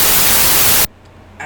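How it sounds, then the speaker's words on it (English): Loud broadband white-noise layer added inside music production software for a rage-style beat, a steady hiss that cuts off abruptly after almost a second, followed by a much quieter tail. "If you want to add white noise"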